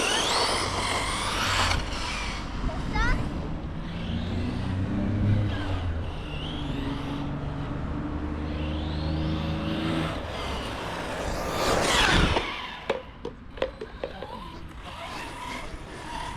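A Team Corally Kagama RC off-road car runs on a dirt track, its electric motor whining and rising in pitch as it accelerates, with a louder burst near the end followed by scattered knocks and clatter.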